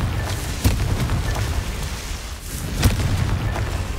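A Confringo explosion spell in Hogwarts Legacy gives a loud, rumbling blast with a couple of sharper boom peaks over a sustained roar, no talk.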